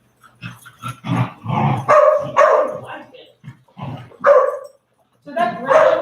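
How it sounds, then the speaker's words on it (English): Dogs playing together, barking and growling in excited bursts at close range, with a person talking over the noise. "So that growling that you're hearing, even the barking, none of that is aggression."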